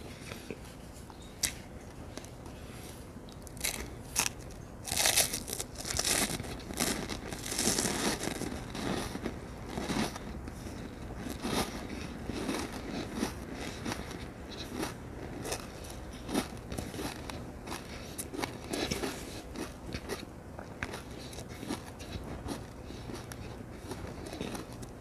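Freeze-dried egg, made from beaten raw egg, is crunched up close in dense crackling bites and chewing, with brittle snaps loudest at first and continuing steadily throughout.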